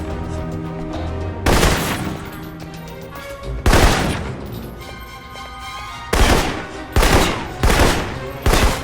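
Assault rifle gunfire in the Alpha Protocol video game: several loud bursts of shots rise over a steady musical background, one early, one mid-clip, then a quicker cluster of bursts near the end.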